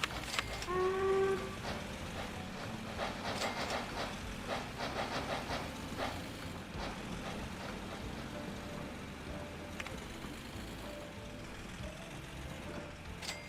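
A train runs along the track in the OpenLoco railway simulation game, a steady mechanical rumble with hiss and rhythmic clatter that is loudest at first and then continues more evenly, with no talk.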